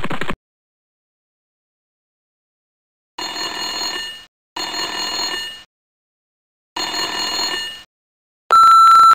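Telephone in the PC game Little Monster Private Eye ringing three times in evenly spaced bursts, loud and alone, followed by a sharp electronic tone at the end.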